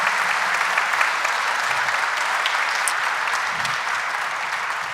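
Crowd applause at a jazz concert honoring a pianist: a broad, steady roar of many people clapping, loud and sustained throughout with a faint whoop or two.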